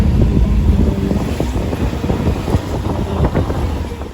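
Steady, loud wind rumble buffets the microphone with a low roar, like air rushing through an open car window while driving, with no talking.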